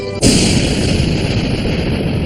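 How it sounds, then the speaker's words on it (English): A sudden volcanic explosion booms in with a sharp onset, then rolls on as a loud, sustained roaring rumble full of low-end noise for the remaining two seconds. "Or a volcanic explosion."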